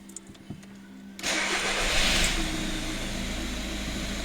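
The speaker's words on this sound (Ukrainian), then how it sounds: "І зараз буду робити холодний старт." A VW Golf 1.6 TDI diesel cranks and fires on a cold start, with a brief quiet lead-in before the engine catches, then a loud, steady, close clattering idle.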